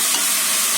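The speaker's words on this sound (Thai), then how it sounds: "คั่วให้ได้ที่" Steady, close sizzling and scraping of chicken being stir-fried in a hot pan, continuous with no voices.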